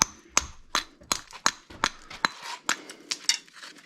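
Hammer blows ring out during installation of a stainless steel fireplace liner on a brick fireplace: about ten sharp metallic strikes land at a steady, fairly quick pace, close and clear with no talk over them.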